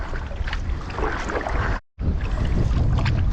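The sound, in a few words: wind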